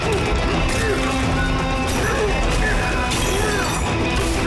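Constant loud crashing and smashing from a big, powerful Kong punching through terrain in a platforming video game, dense layered impacts and mechanical clatter with no pause.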